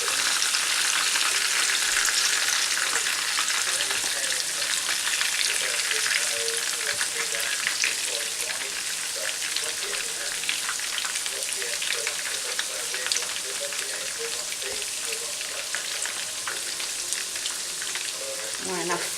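Onion bhajis fry in an open pan of oil with a dense, continuous sizzling crackle, close and steady throughout with no voices.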